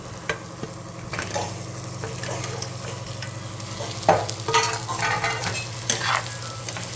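Stuffed ridge gourds going into a cooked masala and frying, with a loud steady sizzle and repeated stirring scrapes, growing busier with clattering spoon strokes midway through.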